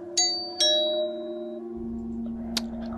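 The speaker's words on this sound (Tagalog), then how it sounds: "Ay naku, sino kaya ito nagdo-doorbell?" A doorbell chimes twice in quick succession, clear and ringing indoors, followed by a brief sharper ding a moment later over a steady low background hum.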